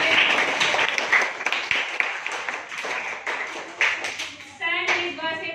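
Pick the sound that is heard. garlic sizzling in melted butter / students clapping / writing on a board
students clapping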